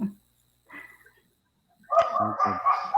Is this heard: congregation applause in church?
no